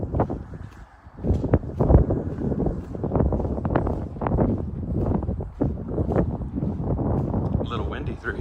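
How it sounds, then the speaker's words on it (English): Wind gusts buffet the microphone during a walk at Keeneland race course in central Kentucky, a loud rough rumble that keeps up from start to finish with no break. "A little windy through here."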